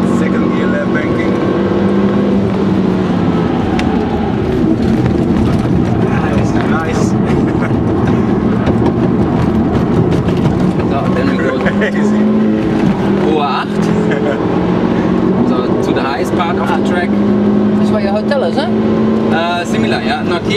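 A Piranha race car laps the banked left-hand Nordschleife carousel in second gear, its engine droning loud and steady throughout with tyre and road roar, while voices talk over it.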